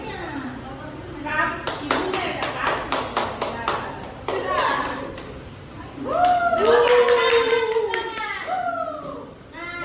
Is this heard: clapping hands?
yes